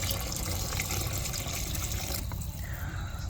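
Lukewarm water poured from a metal jug into a pot of basmati rice, a steady continuous splashing and trickling pour close by that eases off toward the end.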